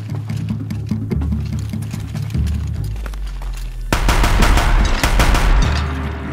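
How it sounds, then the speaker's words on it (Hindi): Gunfire in the video game Horizon Zero Dawn rattles in rapid bursts, with dense automatic-style fire growing louder and heavier in the second half over a low rumbling game backdrop. "गोली चलने की तो आवाज आ गई है"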